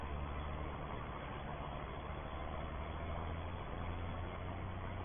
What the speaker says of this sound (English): It was just an extra tractor on the farm